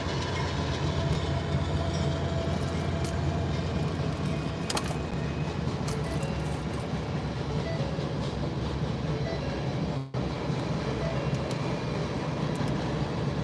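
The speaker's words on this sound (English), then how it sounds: "Got a train going by right now." A train rolls past nearby with a steady, loud rumble and rhythmic clatter of rail cars that fills the whole stretch, with no talking over it.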